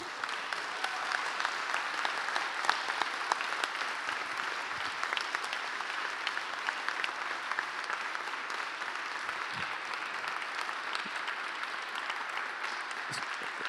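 Audience at a FOSS4GE 2024 conference closing ceremony claps steadily for a long stretch, many hands in a dense, even roar with occasional louder individual claps and a few faint cheers.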